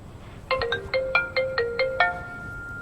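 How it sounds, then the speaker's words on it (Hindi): A mobile phone plays a melodic ringtone, a quick run of bright electronic notes sounding close and clear over low background noise, with no one talking. "अनिल का कॉल, इतना लेट?"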